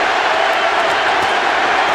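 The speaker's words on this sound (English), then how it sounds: "The crowd is in an absolute frenzy." Boxing arena crowd roaring in a frenzy, a loud, dense and unbroken wall of cheering from a large audience, with no individual voices standing out.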